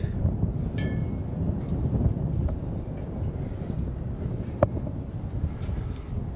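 Wind gusting across the top level of an abandoned mine ventilation shaft, a steady broadband rush buffeting the microphone, with a few faint metallic creaks and one sharp clank partway through.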